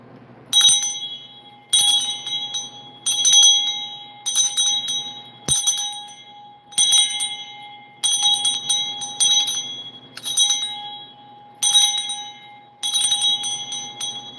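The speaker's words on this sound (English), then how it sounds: "Let me ring this bell 3 times" A handheld bell is rung over and over, about eleven bright metallic strikes at a steady rhythm, each one ringing out briefly before the next, loud and close with no talking.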